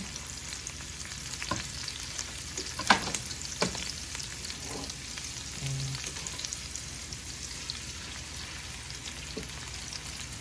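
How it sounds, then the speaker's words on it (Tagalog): Chopped onion and garlic sauté in a hot pan, giving a steady close sizzle with a few faint scrapes and clicks now and then, and no talking. "Lagyan natin mag-brown yung onion at saka garlic."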